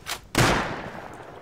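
A single loud gunshot blast in the video game Rust rings out sharply, preceded by a fainter shot, then decays in a long echoing tail with no talking.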